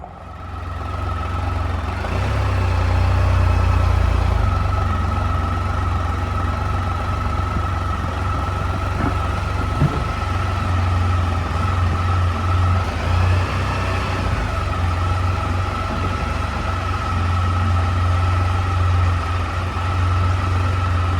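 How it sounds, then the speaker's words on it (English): Heavy traffic rumbles steadily past a covered bridge on a busy road in Ashtabula County, a continuous low engine drone with vehicles passing close by. "My gosh, this is a busy road."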